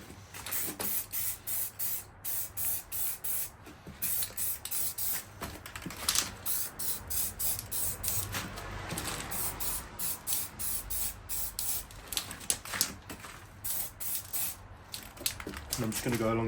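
Aerosol brake cleaner sprayed onto the brake disc of a Volkswagen Caddy, a steady close hiss broken into short repeated bursts with brief pauses, punctuated by clicks and taps.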